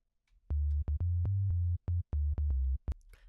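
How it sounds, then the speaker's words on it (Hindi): Deep sine-wave sub bass synthesized in Serum at octave -3, played solo as a series of short, evenly spaced low notes of varying length with small clicks at each onset, loud and clean with no other sounds. "जैसा कि आप सुन सकते हैं हमें सब की जो साउंड है वो मिल रही है"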